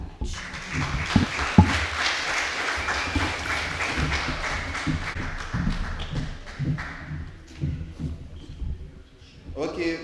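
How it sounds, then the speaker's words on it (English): Audience applause fills the hall at a police youth club awards ceremony, a steady round of clapping that thins out toward the end. "by the round of applause, I can tell that everyone was listening and it was well accepted"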